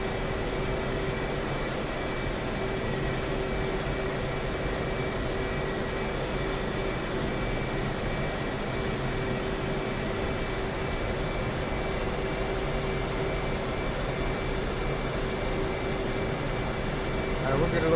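An F/A-18 Hornet's jet engines whine at a steady, even level during a back taxi in DCS World on a Persian Gulf airfield, a constant drone with no change across the clip.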